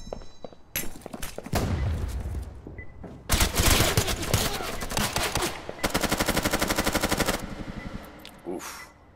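Video game gunfire comes in repeated loud bursts. Rapid, evenly spaced automatic shots are broken by short pauses, and the near, harsh rattling fills most of the clip.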